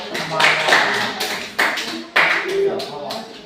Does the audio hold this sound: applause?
yes